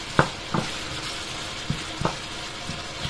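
Onions hitting a hot pan give a steady sizzling hiss, with several sharp spatula knocks and scrapes against the pan spaced through it.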